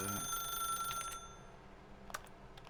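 Telephone ringing in The Stanley Parable, a faint electronic ring with sustained bright tones early on, quiet and set against a low background.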